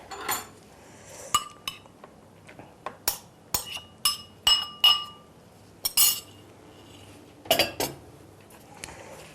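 Grated carrot being mixed into a chickpea and lentil patty mixture in a bowl, with a series of sharp utensil clinks and scrapes against the bowl in an irregular rhythm, close and fairly clear, no talking.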